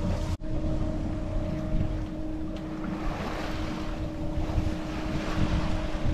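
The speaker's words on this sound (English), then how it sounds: "Wind is freshening up a little bit on our way to Grand Bruit" Wind and water noise at sea under sail heading toward Grand Bruit, a steady broadband rush with a low engine-like hum and tonal drone throughout, close and continuous after a brief dropout near the start.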